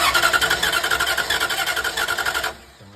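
A 340 Dart engine cranks over on the starter with one spark plug removed, giving a steady, loud rhythmic chugging for about two and a half seconds before it abruptly stops.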